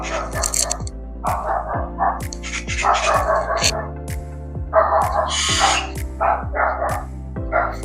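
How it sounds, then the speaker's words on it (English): Several dogs bark in short repeated bursts at a moderate distance, mixed with birdsong and a steady low hum, while a person talks nearby. "there goes them dogs."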